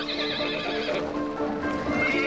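Mongolian horses neigh loudly and repeatedly, with whinnies over a continuous bed of close hoof clatter and herd noise.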